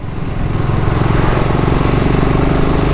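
A BSA Goldstar single-cylinder motorcycle engine thumps steadily while riding at around 4,000 RPM, a loud, close, continuous throbbing pulse with a low rumbling exhaust and no talk.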